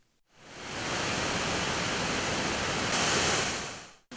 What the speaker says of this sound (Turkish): Girlevik Şelalesi Erzincan'ın Çağlayan beldesinde yer alıyor.